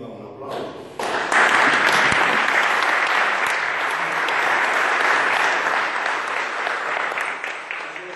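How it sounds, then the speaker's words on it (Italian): An audience at an honorary citizenship ceremony in Italy bursts into loud, sustained applause. It starts abruptly after a brief quiet moment and keeps a dense, steady clatter of many hands for about seven seconds before thinning slightly. "E qui va un applauso."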